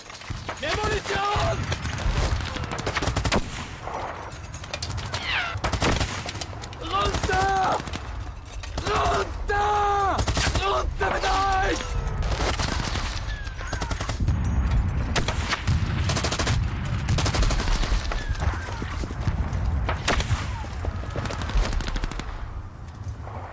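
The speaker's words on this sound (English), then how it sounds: "For Lieutenant Kassel and his machine gun unit, the advancing troops are an easy target" Machine guns fire in rapid bursts on a WWI battlefield at the Somme in 1916, with dense repeated volleys and distant booms. A narrator talks over the gunfire throughout.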